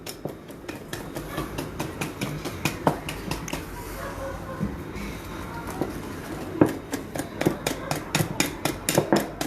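Cake batter mixed quickly by hand in a bowl: rapid rhythmic tapping and scraping strokes, brisk and close, with a slower stretch in the middle, then quickening again.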